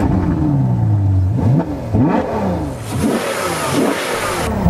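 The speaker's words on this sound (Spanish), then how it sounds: "Cuatro escapes que reproducen la mejor sinfonía de pistones que hayas escuchado en tu vida." A Ferrari 812 Superfast with a 6.5-litre V12 and four exhaust outlets fires up and revs hard. Several loud, close throttle blips rise and fall in quick succession.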